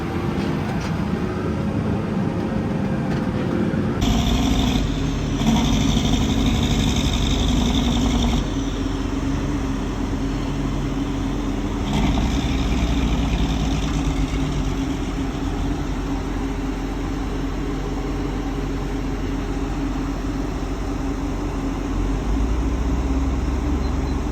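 A large engine of roughly 600 horsepower idles and drones steadily and loudly for the whole stretch, a dense continuous rumble with a slight shift in tone partway through and no talking.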